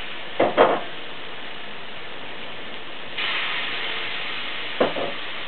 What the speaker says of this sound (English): So let's get this going. Just like that. I'm going to sear it.